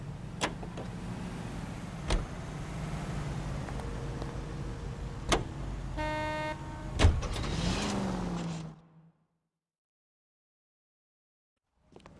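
In the video game L.A. Noire, a car's engine hums steadily while driving, with periodic thumps and a brief whirring mechanical sound midway, before the sound cuts to near silence.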